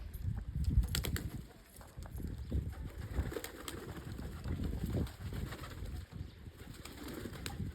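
Pigeons cooing softly at close range, low repeated coos over quiet ambient noise with occasional faint rustles.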